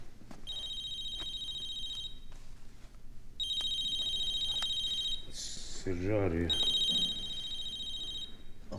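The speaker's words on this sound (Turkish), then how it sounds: "Rahmetli'nin telefonu çalıyor abi." A mobile phone ringtone plays in repeated electronic bursts, pausing and restarting three times, with a voice speaking briefly between rings.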